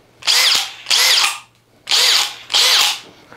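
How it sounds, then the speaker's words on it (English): Four loud bursts of a cordless hammer drill in drilling mode with a half-inch bit spinning up and stopping, each lasting about half a second with short pauses between, close by. "we're going to be using drilling mode"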